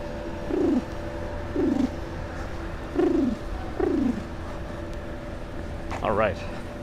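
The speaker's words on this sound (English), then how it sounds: "You like the pigeon sound?" Pigeons coo in a slow series of soft descending calls, evenly spaced, over a steady background hum, with a brief higher call near the end, on a walk from Brooklyn to Manhattan via the Williamsburg Bridge.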